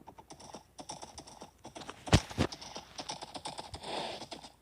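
Horse hooves clip-clop in a Minecraft game world, a quick run of light, even hoof taps with a brief louder burst partway through, over steady game ambience.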